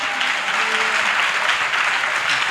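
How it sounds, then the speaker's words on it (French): Steady, dense clapping from a church congregation, a continuous wash of applause at even loudness throughout. "acclamation."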